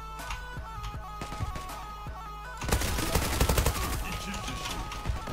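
Rapid automatic fire from an M4 with an M468 upper in a shooting video game, a steady rattle of shots that grows louder and denser halfway through, close and continuous, with faint talk at times.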